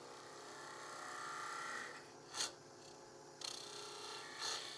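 Light scraping cuts on a small purpleheart wood lidded box, a steady rasping scrape that runs continuously for a couple of seconds, then short separate strokes follow, close and fairly quiet with no talking.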